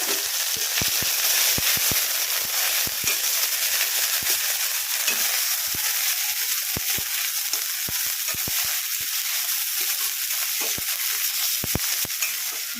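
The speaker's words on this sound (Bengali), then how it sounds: "ওই তেলের মধ্যে দিয়ে দিয়েছি কালো জিরে আর দিয়ে দিচ্ছি ওই কাঁচা লঙ্কা আদা জিরে পেস্ট" Nigella seeds, green chili and ginger-cumin paste fry in hot oil in a kadai, a steady close sizzle broken by sharp clicks and scrapes of stirring throughout.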